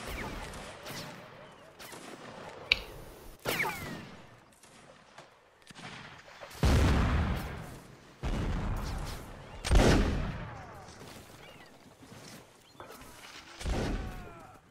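Musket volleys and artillery booms in a siege battle game, scattered sharp cracks and heavy thuds arriving in irregular bursts, some near and loud, others more distant, with voices talking between shots.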